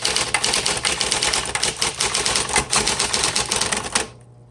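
A 1960s Smith Corona Coronet electric typewriter typing in a fast, steady run of close, crisp keystrokes for about four seconds, then stopping abruptly into a low hum.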